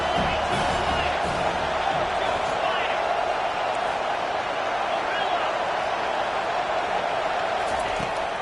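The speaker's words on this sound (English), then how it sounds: "Here comes the crowd trying to make it tough on 3rd and long." A stadium crowd roars steadily in College Football 25 as the home fans get loud on third and long, a constant wall of cheering and noise with a commentator talking over it.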